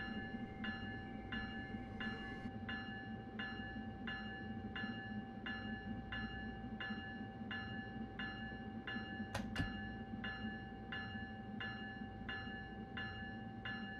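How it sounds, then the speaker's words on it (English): Passenger train on the Keystone service in the Train Sim World 3 simulator around Trenton, New York line, a steady rolling rumble with a regular clicking beat throughout, fairly close, and a brief sharp burst partway through. "it appears to be a Keystone train"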